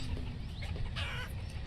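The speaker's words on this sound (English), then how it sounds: "They have chickens." Chickens in the city-building game Banished cluck faintly in short bursts over a low background hum, with no voices.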